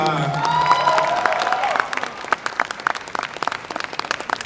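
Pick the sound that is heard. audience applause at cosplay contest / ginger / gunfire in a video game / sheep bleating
audience applause at cosplay contest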